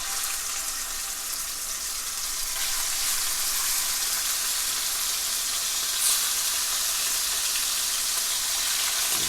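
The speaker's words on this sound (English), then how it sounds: "Put in the rest of our pork." Pork pieces browning in a hot frying pan give a loud, steady, dense sizzle that holds evenly throughout, with no voices over it.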